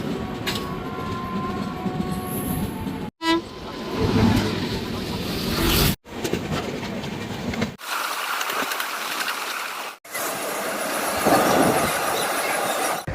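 A passenger train rolls slowly through a busy route under track work, with rumbling wheels, rhythmic clatter over rail joints and brief squeals, heard from inside the coach and broken by several abrupt cuts.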